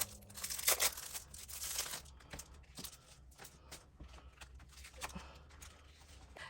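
Crinkling and tearing of plastic packaging being opened up close, loudest at first, then quieter rustling and handling sounds.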